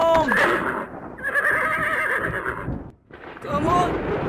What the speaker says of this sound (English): Come on, you lazy horses!